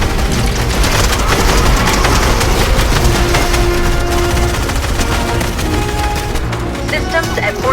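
Loud, sustained rapid gunfire and explosive booms from the video game The Collision live event, forming a dense unbroken barrage of shots with no pause.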